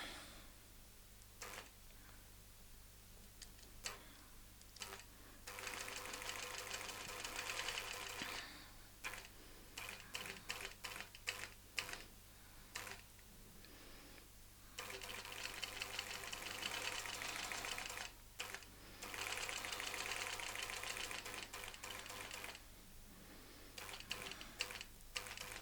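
A longarm quilting machine stitching fabric while sewing a template pattern, a quiet rapid mechanical chatter that starts and stops in several runs with short pauses between.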